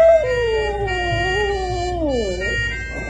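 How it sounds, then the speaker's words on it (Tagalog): A dog, left behind by its owner, cries and howls in one long wavering wail that rises and falls, loud and close, with no speech. "Gaya ng asong si Happy na tila napindot si Sadness sa lakas ng kanyang iyak."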